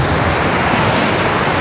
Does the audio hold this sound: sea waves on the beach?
yes